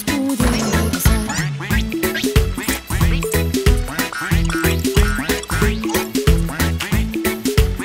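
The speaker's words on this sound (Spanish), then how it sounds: "Mamá pato dijo cuac" A cartoon mother duck quacks in a bright, rhythmic run of loud repeated quacks set over a bouncy children's tune, with the calls falling in time with the music and no speech over them.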